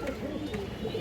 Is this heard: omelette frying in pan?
no